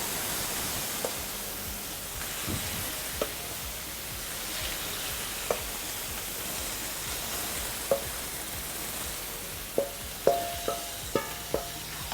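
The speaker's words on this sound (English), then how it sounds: "Once the onions get brown, first we are going to add the liver." Beef liver frying in a pan with browned onions, a constant hissing sizzle with occasional sharp pops and light clinks, heard up close with no voices.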